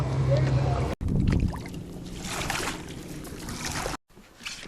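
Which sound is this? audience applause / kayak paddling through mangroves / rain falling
kayak paddling through mangroves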